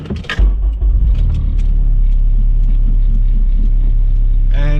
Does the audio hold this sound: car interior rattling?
yes